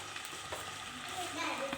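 Marinated boneless chicken frying in hot oil for iftar samosas, a steady close sizzle with light stirring clatter and faint talk in the background.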